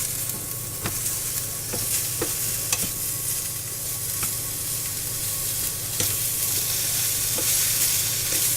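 Green beans and mushrooms stir-fry in a small pan, giving a steady close sizzle broken by occasional clicks and scrapes as they are tossed around.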